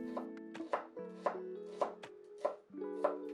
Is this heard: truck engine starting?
no